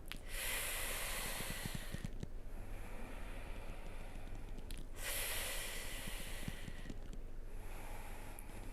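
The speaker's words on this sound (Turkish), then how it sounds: "Beraber bir süre bu nefes tekniğini uygulayalım" Slow yogic cooling breaths, Sitali and Sitkari style, drawn through the mouth and teeth as long airy hisses that repeat in a steady rhythm roughly every three seconds, close and soft, with no talking.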